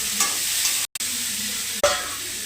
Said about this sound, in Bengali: এবার পেঁয়াজ দিলাম, কাঁচা লঙ্কা কুচানো ছিল দিয়ে দিলাম